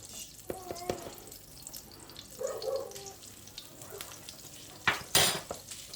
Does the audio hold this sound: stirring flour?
yes